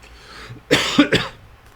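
A short burst of two or three close coughs in quick succession, fairly soft, with quiet surroundings before and after.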